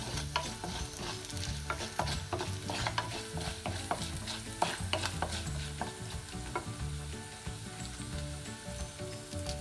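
Whole coriander seeds and spices dry roasting in a pan for a mango murabba, with steady stirring scrapes and a light crackling sizzle running continuously, close and moderately loud, with no voices.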